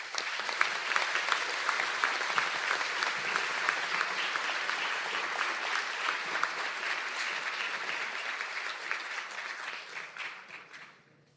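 Sustained applause from a seated audience honoring postgraduate graduates at a Donegal conferring ceremony, dense steady clapping that fills the hall and fades out near the end.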